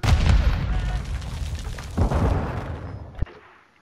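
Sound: gunshot in a video game

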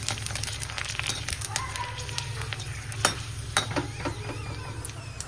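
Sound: golgappa frying in hot oil

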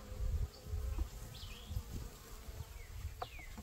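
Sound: honeybees buzzing at a hive

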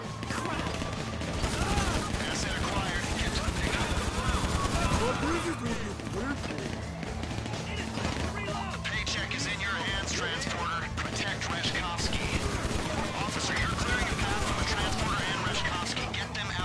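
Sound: pistol gunfire in video game GTA 5 Online

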